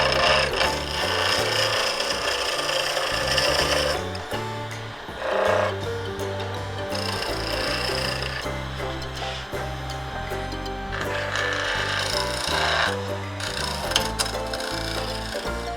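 A woodturning gouge cuts wood on a lathe during back hollowing, giving a steady, loud rasping scrape that surges and eases as the bevel rides and the cut is taken, with the lathe humming beneath and no speech.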